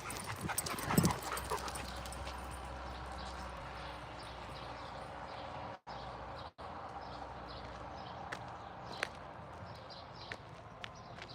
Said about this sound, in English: Yeah, big dog.